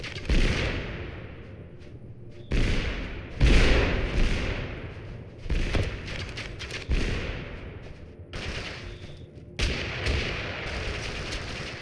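Grenade blasts in the battle-royale game TABG: a string of loud, close thuds and booms bursting one after another over about twelve seconds, each followed by a brief rumbling tail, with no talk.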